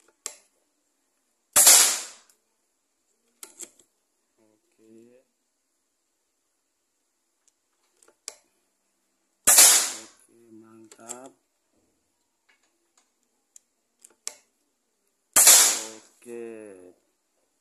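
PCP air rifle, a Predator Mahameru, fires three sharp loud shots at spaced intervals with quiet mechanical clicks of reloading between them, and someone speaks briefly after the shots.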